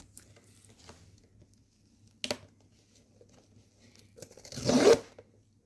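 Velcro on a PopMart surprise package is torn open, a faint short rip first, then a louder, longer ripping burst near the end, close up over a quiet room.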